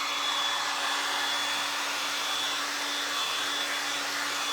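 A hair dryer blows steadily over freshly painted furniture, a light base coat on an upcycled entertainment center, its close, even whoosh and motor hum running unbroken throughout.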